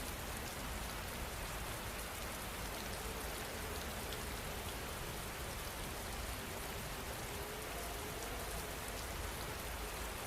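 Steady rain falling, a dense, even hiss of drops on surfaces that continues without break and without voices.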